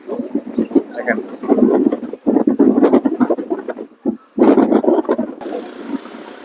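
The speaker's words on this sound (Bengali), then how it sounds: "আজকে প্রচুর হাওয়া বইতেছে।" Strong wind buffets the microphone by a sandy riverbank, heavy gusty rumbles rising and falling in bursts with brief lulls between them.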